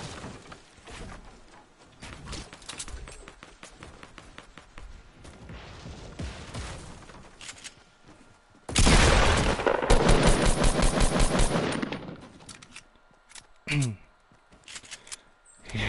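Rapid automatic gunfire in a Fortnite match as a player tries to shoot something down. A loud, sustained burst of tightly spaced shots comes close up after quieter stretches of game noise, ending in a short final blast.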